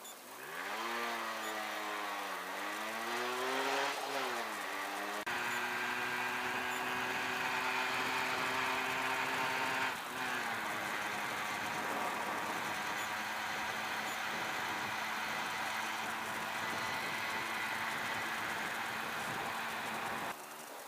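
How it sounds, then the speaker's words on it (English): A car engine idles steadily in traffic, a continuous low hum with sustained harmonic tones that dip and shift briefly early on, then holds constant and fairly close throughout with no talking. "Traffic is terrible today."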